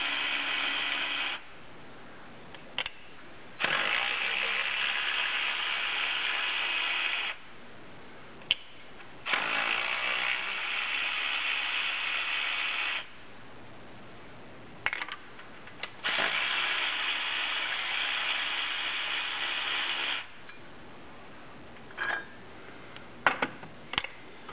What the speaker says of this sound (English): It looks like just about everything on it is 13 millimeters, so I'm going to pull this bracket off first